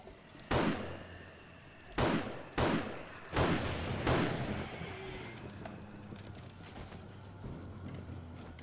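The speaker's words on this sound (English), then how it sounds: "You really just can't beat the power of this AK-47." AK-47 gunfire in 7 Days to Die: five loud, separate, sharp shots at uneven spacing, each leaving a ringing tail, then a quieter stretch of low background noise.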